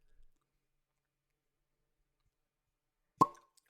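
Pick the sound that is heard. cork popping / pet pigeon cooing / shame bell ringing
cork popping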